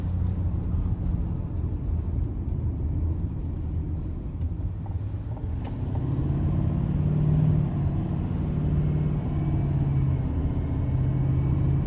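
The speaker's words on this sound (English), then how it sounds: "love the Duramax paired with this 10-speed" A Chevy Silverado 3500HD High Country pickup with a Duramax diesel and 10-speed transmission is driven steadily. Its cabin is full of a loud, continuous low engine rumble that swells a little as it pulls harder, with no talking.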